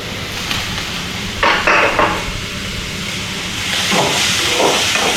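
Steam hisses steadily from a pot during home cooking in a kitchen in Goa, a broad continuous rush with a couple of brief louder surges, nobody talking.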